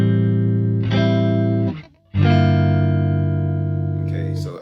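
An electric guitar with effects strums a sustained chord with an added sixth, in a band tune. It rings twice, a brief dropout between the strums, close and loud, with no talking.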